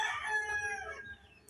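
A backyard rooster, an imported five-year-old pure hatch bird, crows one long drawn-out call, loud and close, fading into quiet at the end.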